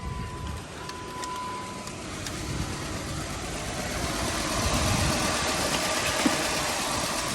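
A car engine idles steadily after being jump-started at a dealer auction; the car is a little low on oil. The low, even rumble runs unbroken and close by, growing slightly louder toward the end, with no talking over it.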